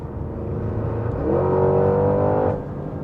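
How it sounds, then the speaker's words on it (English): A tuned 2025 Porsche Cayenne GT Turbo with a titanium exhaust and downpipes revs up close by, the engine note climbing and holding in a loud swell for about a second before dropping back to a steady rumble; nobody speaks. "that sound that you get from the exhaust, that titanium system is just epic"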